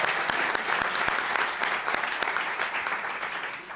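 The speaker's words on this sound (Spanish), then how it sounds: "os pido un aplauso para él" An audience applauding at a gastronomy and culture panel discussion, sustained dense clapping from a room full of people, steady and fairly close, fading slightly toward the end with no talk.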